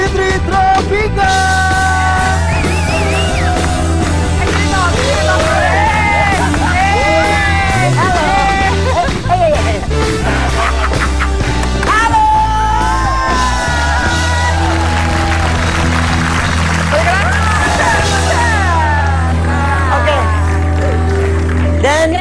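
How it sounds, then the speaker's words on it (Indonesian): A television studio audience claps, yells and cheers loudly and continuously to welcome the hosts, with music and a presenter's voice running underneath. "kita sambut dengan tepuk tangan yang meriah Ruben Otsu dan Fitri Tropika."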